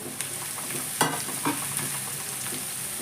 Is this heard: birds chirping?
no